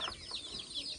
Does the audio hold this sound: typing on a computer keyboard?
no